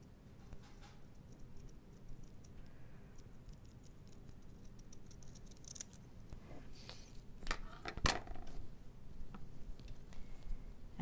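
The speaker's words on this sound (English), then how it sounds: "I'm just going to take some longer bladed scissors and just trim this a little bit more." Long-bladed scissors trim card stock for a handmade otter birthday card, making light, scattered snips and crisp clicks close by in a quiet room, with one sharper cut standing out.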